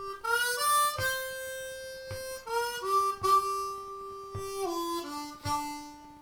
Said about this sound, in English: I'll play the turnaround as we did it last week